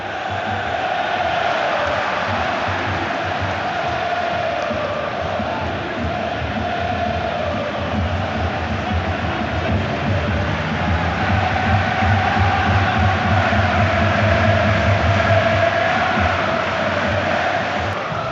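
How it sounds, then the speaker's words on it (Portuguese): Stadium crowd chanting and roaring in a FIFA football video game, a dense continuous wall of fan noise with a steady sung chant rising and falling throughout, no speech. "dá só uma olhada como era o grito da torcida, a participação da torcida nesse FIFA"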